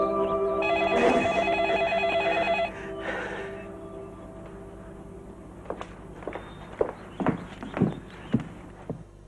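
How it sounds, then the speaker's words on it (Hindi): An old-style telephone rings with a bright, steady bell tone for about two and a half seconds in a scene from a Hindi-dubbed horror drama film. Soft footsteps and light knocks follow, with no talking. "आपके लिए टेलीफोन।"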